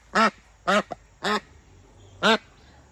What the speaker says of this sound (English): Do you hear the male duck? Drake.